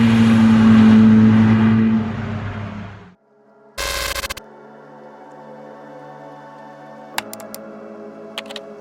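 A 280bhp SEAT Leon Cupra track car at Cadwell Park roars past loudly with a strong engine drone that cuts off abruptly, then a brief loud burst and a lower steady engine hum with a few sharp clicks.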